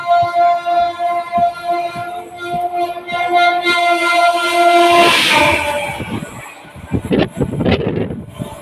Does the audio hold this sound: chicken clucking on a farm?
no